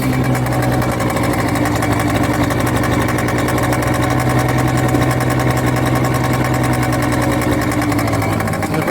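A 2002 Peugeot Looxor 50cc two-stroke moped with a catalyser idles on choke, its buzzy engine running steady and loud close by, with no breaks and no talking.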